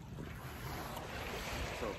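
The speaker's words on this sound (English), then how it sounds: "if you guys can hear that water" Water washes against the shore in a steady, rushing wash of waves heard up close, mixed with wind buffeting the microphone.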